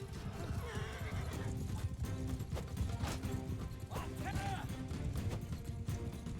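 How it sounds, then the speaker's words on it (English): A horse gallops and neighs in a Mount & Blade II: Bannerlord battle, with drumming hooves and a few shrill whinnies over a constant, noisy battlefield wash. "if you double tap W, when you're at a stop, you'll immediately go to a gallop if you're on a horse."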